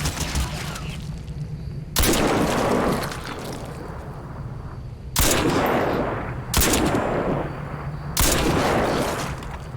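Machine gun fire in Crysis 2 Remastered on Xbox Series X: four loud, sustained bursts of rapid shots, close and heavy, each fading into quieter gaps, with no talking.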